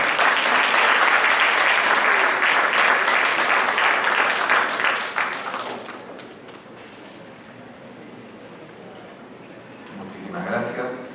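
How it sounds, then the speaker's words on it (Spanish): An audience at a housing development conference claps for an architect who has just presented, with loud, dense applause for about five seconds before it fades away and a voice begins speaking. "Un fuerte aplauso para él, por favor."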